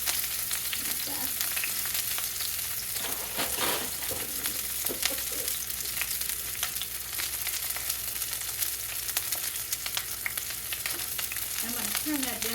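Sausage links frying in a skillet on a stovetop, a steady close sizzle and crackle running the whole time with occasional louder pops, no talking.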